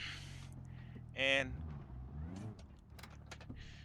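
A car in BeamNG.drive, its roof and hood dented from a crash, cranks briefly and then starts, the engine note rising and settling into a steady idle, with a short spoken word partway through.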